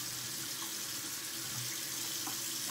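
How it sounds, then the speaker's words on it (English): A running water tap gives a quick rinse at a sink during a wet shave, a steady soft splashing hiss, faint and continuous throughout. "Do a quick rinse."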